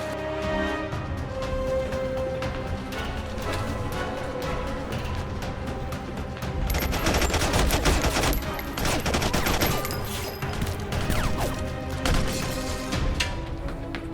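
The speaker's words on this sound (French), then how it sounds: "On fonce et on tire." Dense gunfire from a film shootout with zombie-like undead forces, a sustained fusillade of rapid shots and bursts that swells louder midway and keeps crackling without pause.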